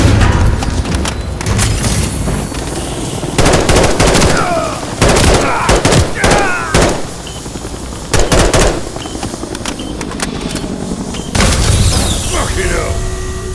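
Heavy automatic gunfire and booming shots aimed at a helicopter in the Call of Duty Modern Warfare III video game, loud sustained bursts broken by short pauses, with shouted voices in between.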